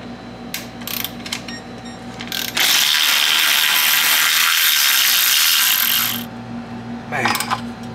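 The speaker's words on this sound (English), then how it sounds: "Taking it off with the ratchet." A ratchet wrench removes a part on a Porsche Turbo S, giving bursts of rapid clicking, then a long loud steady whirring run of about three seconds before more clicks, close up with no talking.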